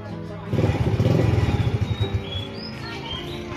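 A motorcycle engine putters nearby in a rapid, throbbing rhythm that swells and then eases to a steadier hum, with birds chirping faintly in the background.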